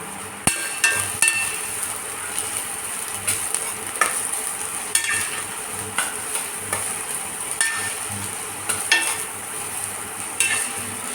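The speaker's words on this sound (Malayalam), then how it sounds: "നന്നായി ഒന്ന് മിക്സ് ചെയ്യട്ടെ വഴന്ന് വരട്ടെ" Capsicum fries in a pan while a spoon stirs it, giving a soft constant sizzle broken by regular metallic scrapes and taps against the pan.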